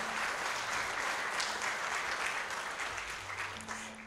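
A concert audience at a classical music festival applauds the National Opera and Ballet Theatre Maria Bieșu choir, a sustained, fairly distant wash of many clapping hands that tapers slightly toward the end, with faint tonal hums beneath.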